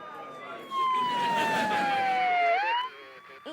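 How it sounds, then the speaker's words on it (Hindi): A siren wails loudly and close, its pitch sweeping slowly downward and then rising again, with faint background noise and a voice underneath. "सायरन बज रहा है"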